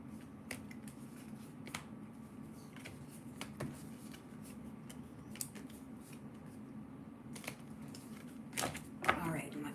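Tarot cards are handled and shuffled back into the deck, making sparse crisp clicks and taps over a quiet room hum. A brief riffle of cards comes near the end.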